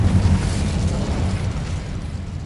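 The Incendio fire spell in Hogwarts Legacy is cast with a loud, rumbling, roaring whoosh of flame that stays dense and steady and slowly eases off over a couple of seconds.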